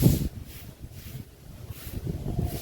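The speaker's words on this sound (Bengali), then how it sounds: "দারুণ হাওয়া দিচ্ছে আজকে, দেখো।" Gusty wind rumbles across the microphone in low, uneven surges, swelling and easing with no voices.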